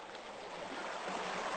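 An ice-cold mountain stream in the Hakkari mountains babbles and splashes steadily while dishes are washed in it, a close, continuous rushing of water with no pauses.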